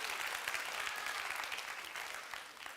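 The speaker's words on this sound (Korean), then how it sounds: "박수로 우리 한번 감사합니다" A church youth group claps in thanks after a worship song, faint, quiet applause sustained evenly and slowly tapering off.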